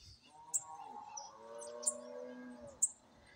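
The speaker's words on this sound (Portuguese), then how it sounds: "passarinhozinho cantando aqui" A small bird chirps in a few sharp, high notes at a farm where cattle are being herded for milking, over a steady low mooing or hum in the background.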